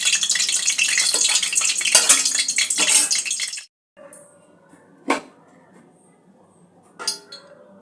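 Large potato pieces fry in white oil in a pan for a cauliflower curry, a dense sizzle lasting a few seconds before cutting off, leaving scattered clinks of utensils against the pan.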